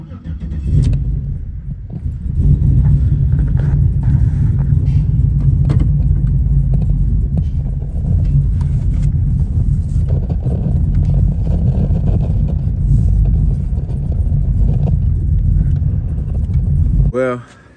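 A car engine in a build being readied for a dyno tune starts with a short crank, then runs at a steady loud idle for about fifteen seconds before cutting off, with someone talking over it.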